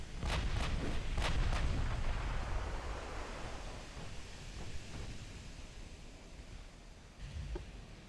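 Battleship main guns fire in Ultimate Admiral naval combat, a cluster of heavy booming shots close together at the start, followed by rumbling rolling echoes and a couple of later distant thuds.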